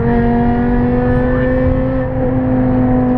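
A BMW E60 M5 engine pulls hard in third gear, a loud steady mechanical howl with strong harmonic drone rising slightly, close and continuous with no talking.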